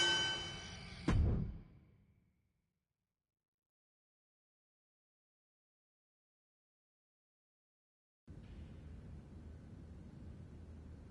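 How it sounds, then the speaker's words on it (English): A wrestling ring bell in the WWE 2K26 video game gives one bright metallic clang that decays over about a second. Silence follows, then a steady low crowd-like rumble. "Ring the bell."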